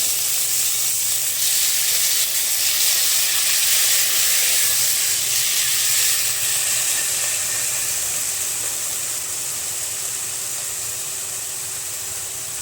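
Tomatoes hit fried onions in a hot pan for a potato and green onion curry, making a loud, close sizzle that hisses steadily and slowly softens.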